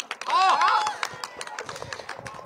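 An audience at a live night show in Wuhan breaks into brief applause for two performers, a short burst of clapping quickly fading to scattered taps.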